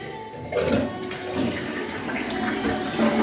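A toilet flushing during a repair where the fill height was being adjusted near the cartridge, a steady rushing water wash that swells after the first half second and keeps going close by.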